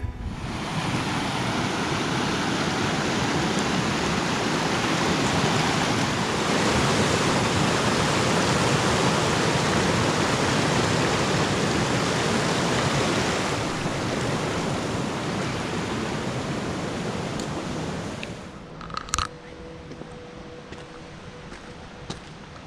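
East Cross Creek, a mountain stream at about 10,700 feet, rushes loudly and steadily close by for most of the time, then cuts off abruptly, leaving quieter surroundings.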